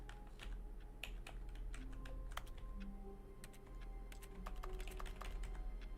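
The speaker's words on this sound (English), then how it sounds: "that sounds like I'm pressing the keyboard, doesn't it?" Soft, irregular keystroke clicks of computer keyboard typing in The Stanley Parable Ultra Deluxe, quiet over a low steady hum, with no one speaking.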